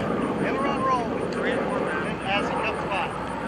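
An L-39 Albatross jet trainer flies past at an air show, a steady, loud engine roar that fills the whole stretch without fading, while an announcer talks over it.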